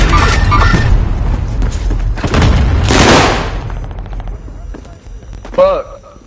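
Precision airstrike explosions in a video game hit as loud, close booms and crackling blasts layered with rapid gunfire, the heavy bursts fading into scattered shots, with voices talking over them.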